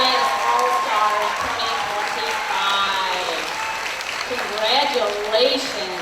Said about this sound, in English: I need a big round of applause for all of our recipients of the PBIS All-Stars